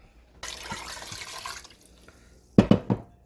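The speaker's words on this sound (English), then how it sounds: "And then I'm going to do 4 cups of water." Water poured into white vinegar in a pot while making clear hot sauce for canning: a steady splashing pour for about a second, a pause, then a few louder sloshes and splashes close by.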